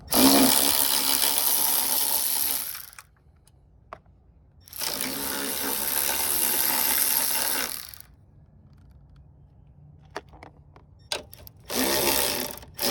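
Ratchet working loose 13 mm strut top bolts on a Pontiac G6, close clicking bursts and loud spray-like hiss in two long stretches, separated by quiet gaps with scattered metallic taps.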